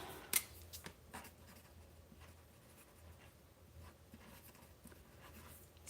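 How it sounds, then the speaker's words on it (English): A pen writes a short note on paper in soft, close scratchy strokes, opened by a sharp tap and followed by faint rustling and pauses, with no talking. "I'm going to write myself a note."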